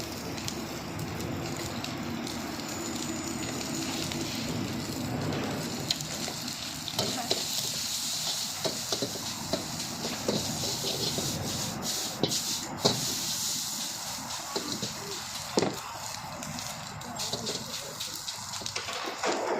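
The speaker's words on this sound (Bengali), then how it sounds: "সয়া সস দিচ্ছে, এরপরে বিভিন্ন ধরনের মশলা দিল, পেঁয়াজের পাতা দিচ্ছে" Food fries on a hot pan at a halal food stall in Hangzhou as soy sauce, spices and spring onion go in. A continuous loud sizzle and hiss runs throughout, with scraping stirs and clinks and faint voices in the background.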